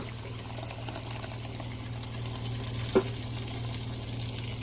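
Salsa goes into a pan of frying pork pieces with nopales, a soft steady sizzle with a faint hum and a single sharp clack near the end, no talk.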